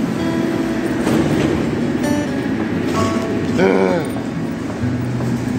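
Steady rumble of a moving passenger train, with a brief wheel squeal near the middle and muffled voices, heard from inside a carriage on a Sochi–Moscow double-decker or Moscow underground run.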